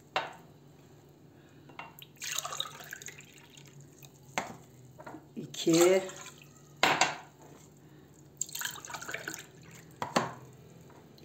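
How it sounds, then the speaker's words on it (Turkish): Water is poured into a pot of sugar to make syrup for a dessert, heard as short, close splashing bursts mixed with clinks of the pot and utensils in a quiet kitchen; a voice speaks briefly. "Bir buçuk bardak suyumu da ekledim."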